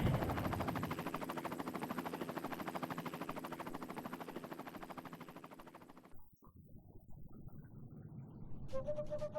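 A helicopter above a dam in the Serious Sam video game gives a loud, steady chopping rotor pulse for about six seconds, then cuts out abruptly, leaving quieter game sounds and a short tonal beep near the end.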